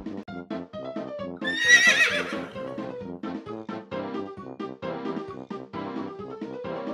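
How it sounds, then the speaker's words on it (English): A horse gives one bright, shrill whinny over a steady backing of rhythmic clip-clop hoofbeats and music, the neigh rising high and falling away near the start. "H is for horse."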